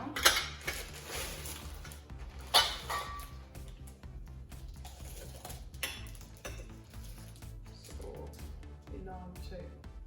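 Four stovetop-safe curry storage bowls from an India parcel are handled close up, giving occasional metallic clinks and taps over low background shuffling, with a voice speaking at times.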